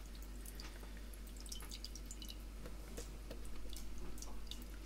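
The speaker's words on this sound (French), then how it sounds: "on va essayer de récupérer le trop plein d'eau" Excess water drips and trickles from soaked, mushy paper pulp being squeezed out for homemade plantable seed cards, a soft, steady stream of close, quiet drips with faint intermittent taps and no voices.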